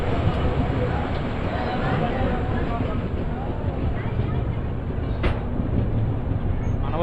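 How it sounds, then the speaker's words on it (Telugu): The Tirumala Express, train 18522, rolls into Renigunta railway station with a steady low rumble of wheels and carriages, a sharp brief squeal near the end, and muffled voices beneath. "ఇక్కడికి ఒక 10 minutes డిలేగా అయితే వచ్చింది మన తిరుమల ఎక్స్ప్రెస్"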